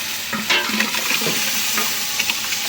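Meat and spices fry in a wok with onion and chilli, a steady, hissing sizzle punctuated by occasional scrapes and clinks of stirring.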